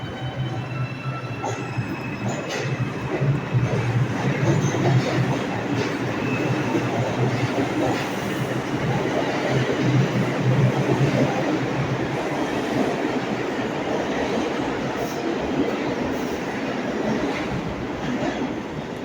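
A New York City subway train rumbles through 138th Street station in the South Bronx, a steady loud roar of rails and wheels with squealing and clacking, close by and with no talk.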